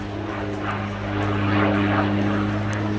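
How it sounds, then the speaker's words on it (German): Grob G 520T Egrett-2 high-altitude reconnaissance turboprop aircraft at Hahn, a steady loud engine drone with a strong tonal hum that swells slightly as it goes, no voices over it. "Ein wirklich großes Flugzeug mit einem maximalen Startgewicht von knapp 5 Tonnen."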